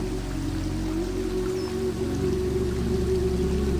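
Vattayi waterfall in Thrissur, Kerala, a steady broadband rush of falling and flowing water, continuous and even with a low rumble, no voices.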